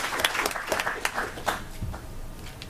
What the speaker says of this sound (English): let us begin by giving just a warm round of applause to our panel